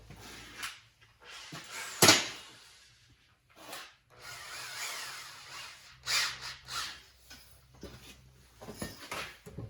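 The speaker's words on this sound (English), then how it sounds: "And I'll drill that out." A drill bores out a hole in a clamped body mount being built for a Volkswagen Jetta, heard as several short, fairly quiet bursts of grinding with pauses and handling clatter between them.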